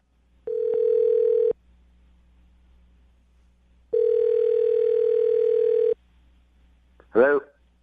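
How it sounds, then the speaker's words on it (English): A telephone handset gives two long steady dial-tone bursts separated by a pause while a number is dialed for a radio call, followed by a brief falling chirp of a line connecting. "I'm going to dial the phone number right now"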